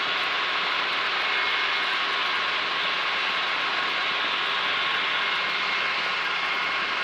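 Light aircraft engine droning steadily during a climb to 500 feet, a loud, continuous broadband roar with a faint steady whine, constant level throughout and no voices.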